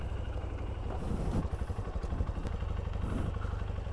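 A Honda CRF150L motorcycle idles close by, a steady low rumble with a faint, irregular mechanical clatter running through all four seconds.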